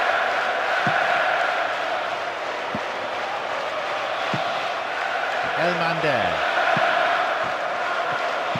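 Stadium crowd in the PES 2009 football game roars steadily throughout, a dense sustained wall of noise with a brief rising whoop near the end, while a commentator speaks over it.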